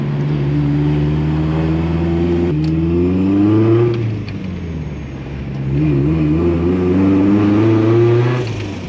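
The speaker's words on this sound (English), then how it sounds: "Oh, definitely misfiring." A turbocharged Mazda MX-5 Miata engine running with a misfire, its uneven drone rising and falling in pitch close to the microphone throughout.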